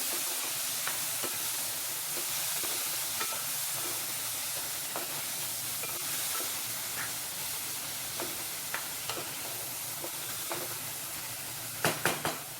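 Salted mushrooms sizzle in a pan, a steady frying hiss with occasional soft scrapes of stirring and a few sharper clicks near the end.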